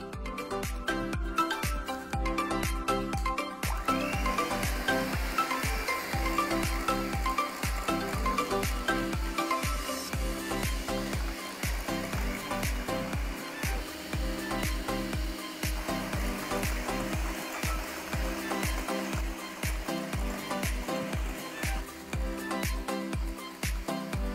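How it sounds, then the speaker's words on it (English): An electric hand mixer whirs steadily while whisking brownie batter until frothy, a continuous motorized drone with rhythmic pulses as the beaters move through the mix, alone with no talk. "I'm going to use my hand mixer just so that we get that perfect frothy consistency"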